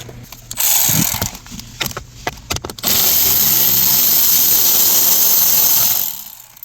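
A ratchet with a T25 Torx socket loosens a screw on the blower motor of a 2019 Toyota Highlander, giving a run of quick close clicks and then a steady loud whirring spin that ends abruptly.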